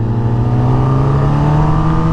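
A Kawasaki ZX10R sportbike engine drones steadily and loudly while being ridden, holding a sustained tone with slight pitch rise, close and continuous with no talk over it.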